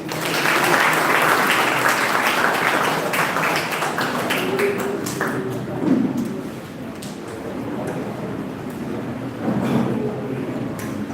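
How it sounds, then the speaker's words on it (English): Loud audience applause fills a hall at a securities markets program, steady dense clapping throughout with a few sharper claps standing out, no talk over it. "With your loud applause,"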